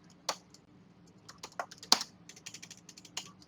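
Code is typed on a computer keyboard in irregular bursts of crisp, close keystrokes, with a few louder taps standing out amid quieter clicks and brief pauses.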